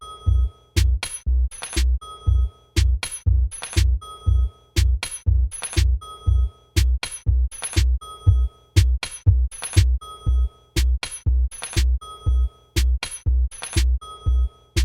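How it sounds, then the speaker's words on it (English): A Chicago house four-on-the-floor drum pattern built from free library samples, with a tom layered over steady kicks, repeating in a tight, punchy, loud loop alongside bright clinking percussive hits, with no voices. "I'm going to add a tom sound on top of the kicks just to give it a little bit more attack."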